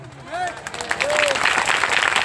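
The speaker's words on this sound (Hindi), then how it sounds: "बजाओ बराबर ताली यीशु के नाम से।" An audience at a Christian prayer gathering breaks into applause that swells and holds steady to the end, with a voice speaking over the start of the clapping.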